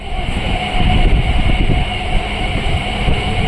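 A local train runs near Kolkata on its way to Thakurnagar, a loud continuous rumble and engine drone from inside the carriage with rattling underneath, no voices.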